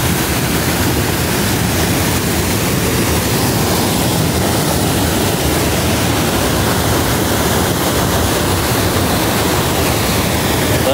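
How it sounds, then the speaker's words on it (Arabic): A waterfall roars as a loud, dense, unbroken rush of falling water with no pauses and no voices. "هذه ما هي امطار، هذه شلالات"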